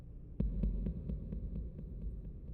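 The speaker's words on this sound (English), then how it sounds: "That's my heartbeat." A slow, steady heartbeat thumps in Mass Effect, the repeated low pulses evenly spaced over a soft droning hum, with no voices.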